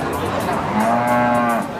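A cow at a cattle market gives one long, loud, close moo with a clear tone, over faint background crowd noise.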